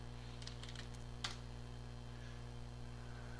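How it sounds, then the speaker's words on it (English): Fast typing on a computer keyboard while editing a Xen configuration file: a few quick clusters of key clicks early on, faint over a steady electrical hum, then quiet hum for the rest. "I hope I'm not too fast in my typing."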